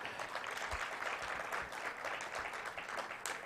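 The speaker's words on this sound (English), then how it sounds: "let's clap for her once again" Audience applause at an activism event against gender-based violence, a steady sustained clapping from a crowd lasting throughout, fairly even in loudness with no voices standing out.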